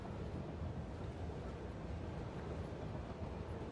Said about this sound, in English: I'm not allowed to go through because that train's coming through.